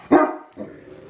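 A dog gives one loud, close bark followed by a short, softer whimpering yip.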